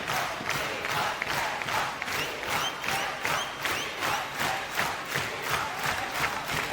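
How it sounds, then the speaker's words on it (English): A live rock concert crowd chanting the band's name, a loud, rhythmic roar of voices and claps pulsing in steady repeated beats, cheering throughout. "you can hear the energy of that crowd chanting the band's name"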